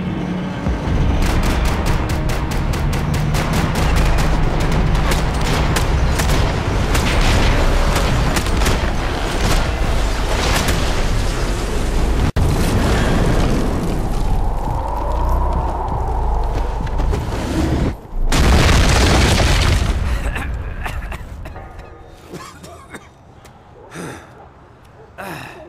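Cutscene from the Max Payne 3 video game with sustained loud gunfire and explosive booms throughout, a short break near the middle, then a final burst before it fades to quieter scattered sounds.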